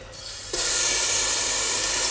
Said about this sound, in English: we're going to add our ginger and garlic and we're going to fry it